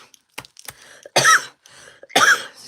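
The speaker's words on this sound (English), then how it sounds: "Here we go. Coughing again." Two harsh, forceful coughs about a second apart, close by, preceded by a few soft clicks and breaths in a quiet room.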